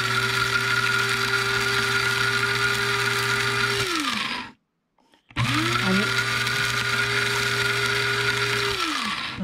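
A kitchen blender grinds pungent seeds in two long bursts, loud steady whirring motor with rattling seed clicks, each run winding down, separated by a short silence.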